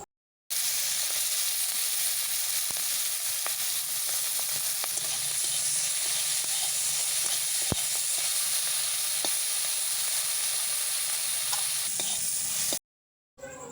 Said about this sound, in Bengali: এরপর মাছ ভেজে নেব।